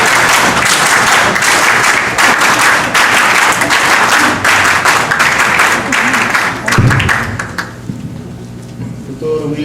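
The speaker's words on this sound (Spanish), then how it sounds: "Fuertes aplausos." Loud, sustained applause from an audience at a Peruvian Aprista party tribute event, steady dense clapping for about seven seconds before fading out into quiet.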